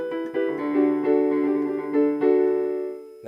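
Piano playing a passage from a song: sustained harmonic chords restruck a few times over about three seconds, close and clear, with no talking.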